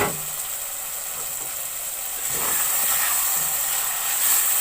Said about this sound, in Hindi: अब इस कलेजी को मैं थोड़ी देर भून लूंगी।